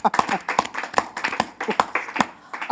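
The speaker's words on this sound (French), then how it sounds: "on va passer à la musique avec des applaudissements" Several people clap in a loose, fairly steady rhythm, sharp separate hand claps about every half second for a few seconds, with some vocal sound mixed in, at a musical segment of a culture and heritage programme.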